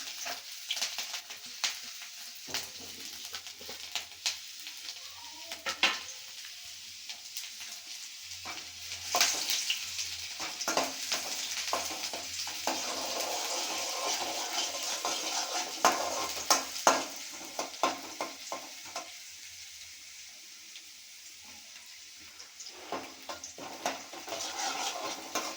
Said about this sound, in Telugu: ఓన్లీ హై ఫ్లేమ్ మీద మాత్రమే ఈ క్యారెట్, బీన్స్ టాస్ చేసుకోవాలి